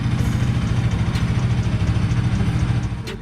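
A Bajaj NS 200 BS6 motorcycle engine, a 2021 model, idles steadily with a low, even throb and rapid regular pulses, close and fairly loud, with no talk over it.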